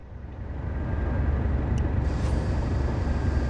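Train brake on a locomotive in Train Sim World on the Tees Valley Line: a low rumbling hiss of released air that swells in the first second and then holds steady, with a brief higher squeak midway.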